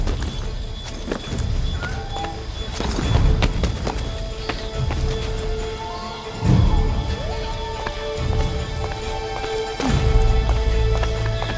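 Steady hoofbeats of a horse moving at speed in Assassin's Creed 3 Remastered, with heavier thuds every few seconds over a low rumbling background.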